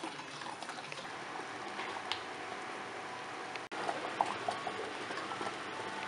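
Tamarind paste thickening on a stove burner gives a steady, soft bubbling and sputtering hiss throughout, close but fairly quiet, with no voices.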